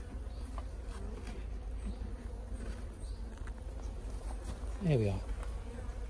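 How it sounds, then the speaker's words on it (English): Honey bees buzz steadily around an open beehive during a hive inspection, a dense continuous drone with one bee passing close and loud near the end, while a person speaks briefly. "Definitely a lot more bees flying around."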